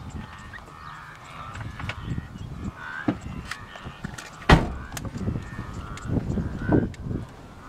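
Herd animals on migration baaing like sheep: a scattered field of low calls and grunts at varying distances, some nearer and louder, over steady outdoor rumble, no talk.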